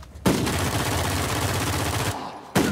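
Sustained automatic fire from an ARX rifle in Uncharted 4, a loud, close, rapid stream of shots lasting about two seconds, then a brief gap before firing resumes.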